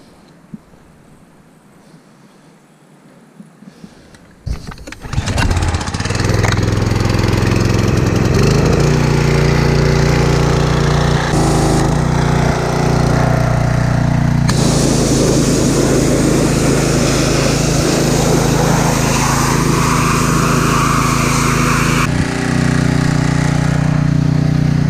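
Suzuki DRZ 400E motorcycle engine, just after a top end rebuild, cranks with a few clicks and then fires up, settling into a loud, steady close-up idle with slight rises in revs that runs continuously.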